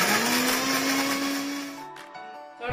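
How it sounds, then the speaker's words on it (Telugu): A mixer grinder coarsely grinds fifteen green chillies, a loud close motor whine running steadily, then cutting off near the end with a brief rattle as it winds down. "15 పచ్చిమిర్చి వేసి కచ్చా పచ్చిగా మిక్సీ పట్టుకుందాం"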